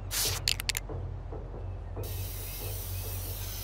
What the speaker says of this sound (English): Oh man, I gotta rattle the spray can.